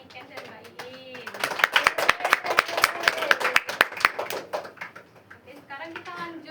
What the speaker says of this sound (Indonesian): Tepuk tangan dulu untuk Mbak Niken dan Mbak Iin.